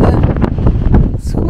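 Gusty wind on a beach buffets the microphone in loud, rough bursts throughout this short moment.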